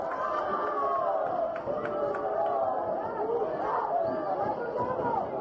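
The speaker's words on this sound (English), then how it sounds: "Can hear the crowd just urging their side on" A football crowd at the Gibraltar Rock Cup final between FCB Magpies and Lincoln Red Imps keeps up a steady, distant roar of chatter and encouragement, with a commentator speaking over it.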